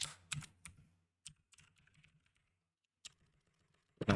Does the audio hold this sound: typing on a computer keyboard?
yes